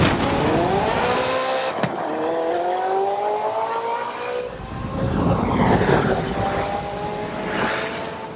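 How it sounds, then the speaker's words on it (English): A Ferrari F40 races in Forza Horizon 5, its engine wailing loud and high, climbing through rising pitch sweeps with a sharp gear shift, then a rougher roaring surge. "You don't need an excuse to get me into an F40."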